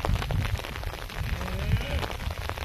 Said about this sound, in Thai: ฝนก็ตกอ่ะเนี่ย